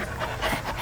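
A dog panting in quick, soft breathy bursts close by, a short run of rhythmic huffs with no talking.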